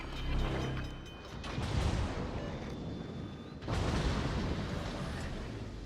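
Warship main gun batteries fire in World of Warships during a Jutland battle, heavy booming salvos with rumbling low-end, one near the start and another louder blast midway, each trailing into mechanical rumble.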